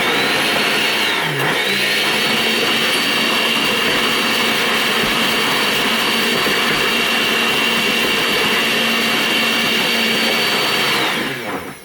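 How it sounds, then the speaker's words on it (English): A blender grinds Flamin' Hot chips into a coating. The loud, steady motor whine and grinding run continuously for about twelve seconds, close up, then cut off at the end. "Now I'm about to go grind it up."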